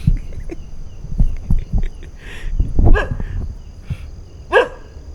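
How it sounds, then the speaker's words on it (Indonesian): Dogs bark back and forth around 8 pm at night near a solo campsite, with scattered single and double barks from several dogs, some close and some farther off, against quiet background noise. "Ini kalian dengar ya, anjingnya saut-sautan guys"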